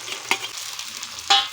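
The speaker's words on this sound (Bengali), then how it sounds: "এবার আমরা আদা রসুনের পেস্টটাকে দিয়ে দেব।" Ginger garlic paste frying in a pan, a continuous sizzle with two sharp scrapes of a spoon stirring it, about a second apart.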